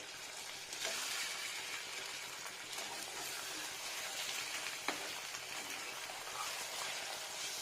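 A thick egg omelette frying in a pan, a dense, even, close sizzle that holds steady throughout, with a single brief knock partway through.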